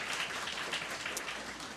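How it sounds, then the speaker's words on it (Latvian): Audience applause at a workplace psychosocial risk conference, a steady, fairly soft wash of clapping that holds evenly for under two seconds with no voices on top. "sagaidām ar aplausiem."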